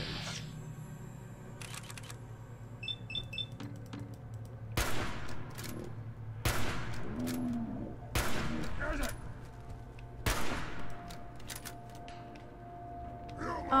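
Several bursts of gunfire in the video game Fallout 4, aimed at a turret, each a sharp broadband crack spaced a second or two apart over a steady game background hum and faint clicks.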